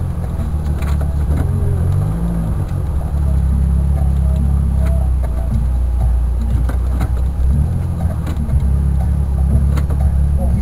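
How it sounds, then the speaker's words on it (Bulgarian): A Fiat Punto GT turbo drag car at a drag racing track, its engine droning loud and steady throughout, with slight swells in pitch and no voices. "Първи автомобил, който е стъпва на пистата."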